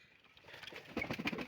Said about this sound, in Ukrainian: Де покажу вам голубки.